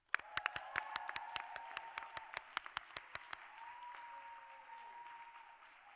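An audience claps in applause to welcome a reader at a staff literary reading: a loose scatter of distinct hand claps over about three seconds, tapering off while a steady hum continues in the room.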